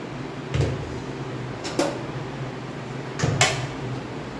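Metal lid on a pot of cooked dal clinking and scraping in a home kitchen, with two pairs of short knocks spaced apart against quiet room background, no speech.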